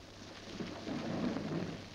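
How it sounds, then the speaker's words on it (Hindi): Rain falls steadily in a soft, continuous hiss, with a faint low rumble of thunder swelling slightly toward the middle; no voices are heard. "बारिश हो रही है"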